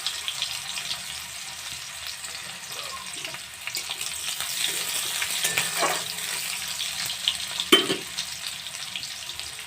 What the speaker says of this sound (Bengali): অল্প করে একটু ভেজে নিচ্ছি।